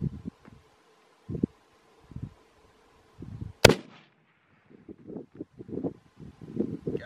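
A single sharp, loud shot from a Savage 110 High Country rifle in .300 Win Mag, fired at a target 1,250 yards away, cracks out midway through. Quieter rustling and wind-like thumps surround the shot.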